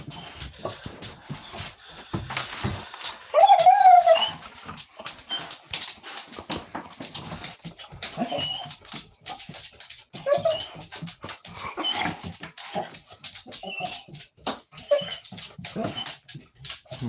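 A pet dog whines and yips excitedly as its owner comes home after a long work shift, high whimpers rising and falling between scuffling paws and movement, with occasional talk from the owner.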